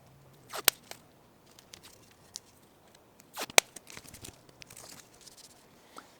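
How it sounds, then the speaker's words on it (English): Tape is pulled and pressed onto a bicycle frame: sporadic sharp tearing rips and crinkly, sticky rustles, close and fairly quiet, with no talking. "I always put some tape over the frame here so I don't mark it."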